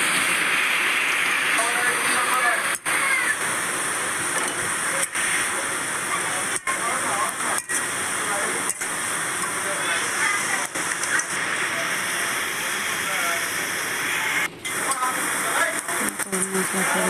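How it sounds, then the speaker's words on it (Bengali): Onions frying in a pan for a meat curry give a steady, dense sizzle and crackle throughout, loud and close, with a few brief dips and occasional handling sounds. "পেঁয়াজটা ভালো করে আমি ভেজে নিচ্ছি"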